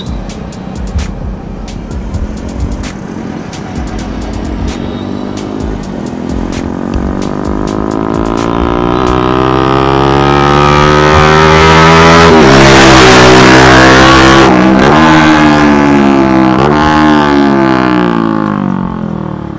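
A Bajaj Pulsar RS200 motorcycle fitted with an SC Project exhaust revs steadily up from a loud idle to a sustained high-pitched peak before easing back down, very close and dominant, with no talking.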